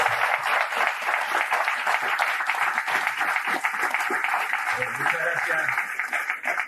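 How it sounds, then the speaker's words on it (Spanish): Applause from an audience at a conference on citizen income, a dense continuous clapping that holds steady throughout with a faint voice underneath near the end. "Le damos un fuerte aplauso."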